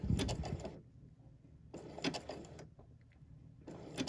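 A sewing machine running a tacking stitch over a stay stitch on a satin-stitched Christmas quilt, heard as two or three short mechanical whirring bursts separated by near silence.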